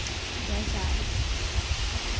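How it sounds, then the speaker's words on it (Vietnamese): Steady broadband rush of rain arriving outdoors near a home kitchen, a dense hiss with low rumble of wind throughout, fairly loud and continuous with no break. "Mưa tới nè."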